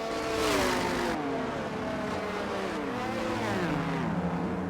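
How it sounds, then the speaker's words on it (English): Race cars revving and spinning their wheels in burnouts on the starting grid of a racing video game, several engines wailing with rising and falling pitch sweeps layered over one another, loud and continuous without speech. "Get some burnouts on the grid."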